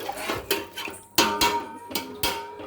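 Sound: lid being put on cooking pot

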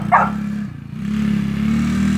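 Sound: 110 Spider-Man Coolster ATV engine running

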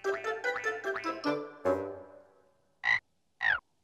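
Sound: frog croaking

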